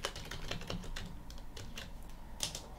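Fingers type on a computer keyboard in a quick, uneven run of close, crisp key clicks with no talking.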